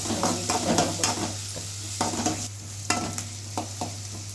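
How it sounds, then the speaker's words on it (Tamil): Onions sizzle and fry in a pan for tomato kurma, with repeated scraping stirs of a utensil against the metal over a steady low hum. "வெங்காயம் நல்லா வதங்கி இருக்கணும்"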